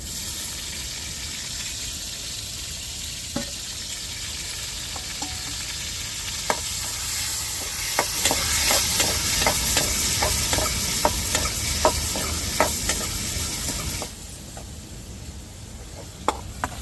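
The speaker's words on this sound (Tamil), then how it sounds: "நான் ரெண்டு சின்ன தக்காளி எடுத்து கட் பண்ணி வச்சுருக்கேன் இப்போ எண்ணெயில் வதக்கி குழம்புல சேர்த்துக்கிடுவோம்" Small cut tomatoes sautéing in oil for a Tirunelveli sothi kuzhambu give a steady close hiss with scattered sharp crackles and spoon taps, easing slightly near the end, no talk.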